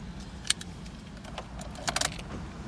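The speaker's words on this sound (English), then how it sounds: "So let's go ahead and start it up." Keys jangle quietly inside a 2019 Buick Cascada car as it is being started, with a few soft, brief metallic clinks against a low cabin hum.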